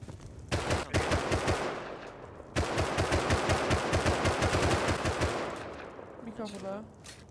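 Automatic gunfire in the online survival game Rust during a base raid: two long, rapid bursts of machine-gun fire, loud and close, with a brief gap between them and a voice speaking briefly at the end.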